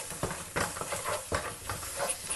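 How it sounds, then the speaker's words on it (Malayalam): Masala spices for mutton curry fried and stirred in a pan, giving a steady close sizzle and hiss with soft scraping strokes at irregular intervals. "നന്നായിട്ട് ഫ്രൈ ചെയ്യാം മസാലകൾ"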